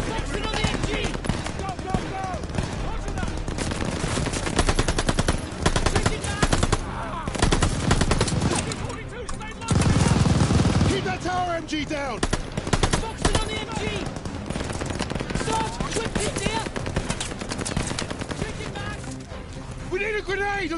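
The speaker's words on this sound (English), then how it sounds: "We need a grenade on the MG!" Machine-gun bursts in a Call of Duty Vanguard battle, rapid rattling fire layered with other gunshots and explosions, heard under shouted voices from the squad.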